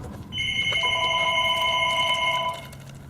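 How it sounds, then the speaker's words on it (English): A telephone rings in a workshop where a Briggs & Stratton opposed-twin engine carburetor is being rebuilt; a steady electronic ring with two bright tones sounds continuously for about two seconds, fairly close, with no talking. "Well, phone's ringing."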